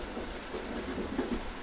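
Heavy rain falling steadily in a dense, even hiss, with a low rumble underneath and no voices.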